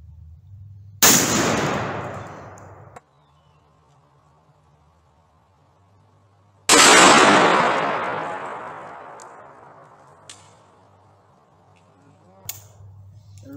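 Two loud gunshots are fired at Pyramex hard plastic safety glasses outdoors, each a sharp blast with a long ringing decay, several seconds apart, followed by faint knocks.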